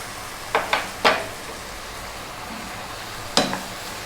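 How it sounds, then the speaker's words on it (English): Onion frying in oil in a pan for Ethiopian lamb tibs, a steady soft sizzle broken by a few scraping stirs and utensil clinks, close by with no talk. "Now we'll put in the onion and cook for 5 more minutes."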